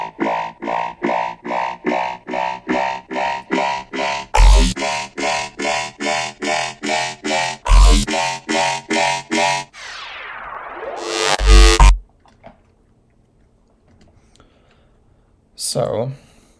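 Synth leads from the second drop of a bass music song: loud, rapid, evenly pulsing stabs broken by heavy hits, then a sweeping glide, a dense roll, a near-silent pause and one last short burst.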